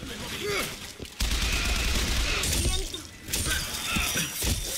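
Loud, chaotic bursts of gunfire in BioShock Infinite with crashing, shattering noise, sustained for several seconds with a voice talking over it.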